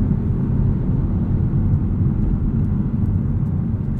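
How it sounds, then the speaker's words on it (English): A 2021 Audi S4 engine is heard from inside the car, pushing toward redline with an automatic upshift. It makes a loud, steady, deep rumbling roar that holds throughout. "It will auto upshift at redline."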